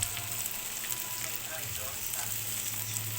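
Sautéed tomatoes with oyster sauce sizzle in a pan, a steady, moderately loud frying hiss that runs through the whole stretch with faint stirring beneath it.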